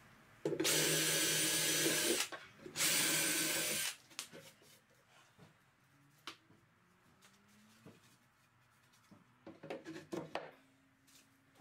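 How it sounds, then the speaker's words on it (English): A power drill bores holes in a wooden drawer front for drawer pulls on a corner TV unit, with two loud, close whirring bursts followed by quieter tapping and handling noises. "I drilled a couple of holes in the draw front where the draw pulls would eventually go"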